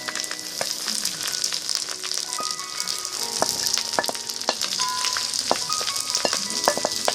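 Onions sizzle steadily in hot, heavily oiled pork for a wet fry, with frequent sharp crackles and pops scattered through a continuous close frying hiss.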